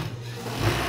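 A sewing machine stitches elastic onto bikini panties, a fast, even mechanical whir running close and steady for a brief moment.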